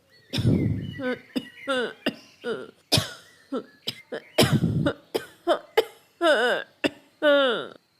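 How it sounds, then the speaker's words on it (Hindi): A cartoon character coughs repeatedly in a run of short, harsh bursts with gaps between them, close and clear, mixed with a few throat-clearing and wheezing vocal sounds. "वो सारी रात खांसी करता रहता है।"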